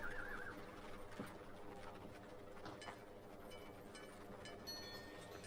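A horse whinnies once in the Lord of the Rings Online game, a high wavering neigh near the start, followed by faint hoof clip-clops and soft game ambience.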